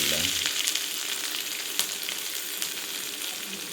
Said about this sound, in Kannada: ಬೆಳ್ಳುಳ್ಳಿ ಒಂಚೂರು ಫ್ರೈ ಆವಡು